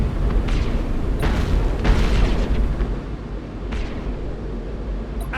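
Torpedo explosions in Battlefleet Gothic: Armada boom in a loud, rumbling cluster, several deep blasts overlapping and then fading into lower rumble, with no voices.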